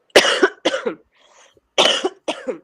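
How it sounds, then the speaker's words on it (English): Four harsh coughs come in two pairs, close and loud, with a brief quiet pause between the pairs. "I am coughing."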